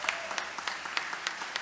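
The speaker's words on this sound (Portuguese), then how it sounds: "Vamos dar uma salva de palmas para Jesus" A church congregation at a conference service applauds, with scattered sharp claps rising over a steady background of clapping for a short stretch, moderately loud and close.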